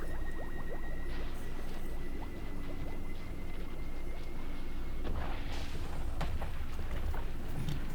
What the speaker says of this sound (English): Now that you've witnessed some cool explosions